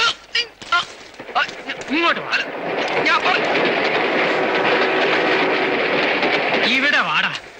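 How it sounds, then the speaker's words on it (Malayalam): In a Malayalam film scene, a train runs along a railway track with a loud, steady rumble and rhythmic clickety-clack that builds and holds. Brief voices and squeal-like tones are heard near the start and end. "ആ സിനിമയിൽ വിജനമായ റെയിൽവേ ട്രാക്കിൽ കിടക്കുന്ന ദിലീപിന്റെ ഒരു രംഗമുണ്ട്."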